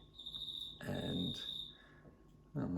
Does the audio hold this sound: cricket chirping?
yes